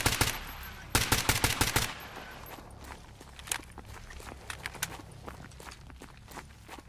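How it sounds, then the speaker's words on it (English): Rapid bursts of suppressed weapon fire in Stalker GAMMA, a tight volley of loud shots up front, then scattered single shots and footstep-like thuds that fade under lingering echoes. "This weapon's so loud, even with the silencer."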